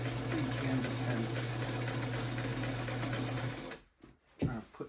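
An old, small grandmother's sewing machine runs in a steady, loud mechanical whir for several seconds, then stops, leaving a few faint clunks and handling noises.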